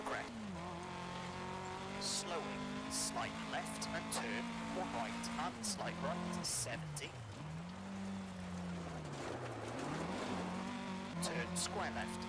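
Rally car engine from EA WRC racing through a long stage, a steady loud drone with repeated rises and drops as gears shift, tire noise underneath, while someone talks over it throughout.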